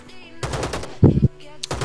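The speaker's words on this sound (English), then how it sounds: "Oh my god, you're still shooting my friend." Automatic gunfire from the mobile battle-royale game Rules of Survival comes in three loud, rapid bursts separated by short pauses.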